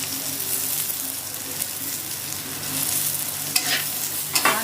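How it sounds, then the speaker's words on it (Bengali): A pan of sour fish curry with raw mango and small mourola fish is stirred as it sizzles, a steady frying hiss with scraping stirs and a few sharper clatters near the end, no talk. "আমটাকে একটু নাড়াচাড়া দিয়ে ভালো করে নেড়ে নেব আমটা"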